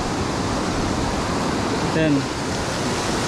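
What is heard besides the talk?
strong river current flowing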